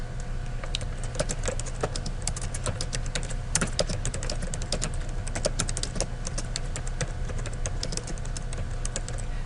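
Continuous rapid clicking of a computer keyboard as an essay is typed, the keystrokes close and steady over a low background hum with no one speaking.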